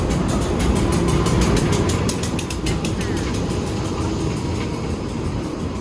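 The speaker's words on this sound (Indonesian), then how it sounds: "Ini kereta apinya udah datang" A train arriving at a station rumbles and clatters steadily close by, a dense rolling mechanical noise with rhythmic clicking, while people talk faintly in the background.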